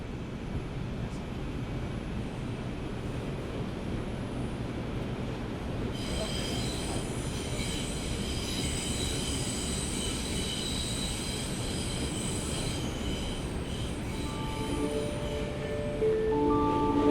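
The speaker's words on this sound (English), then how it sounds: "As the train entered a dark tunnel," A train rumbles steadily along the rails as it runs into a dark tunnel, with a constant loud roar and high metallic wheel squeal building partway through and persisting to the end.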